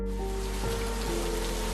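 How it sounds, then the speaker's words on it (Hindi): Heavy rain pours down in a steady, dense hiss that fills the whole stretch, loud and continuous, with a low constant rumble beneath and no voices. "बहुत तेज बारिश हो रही है सर।"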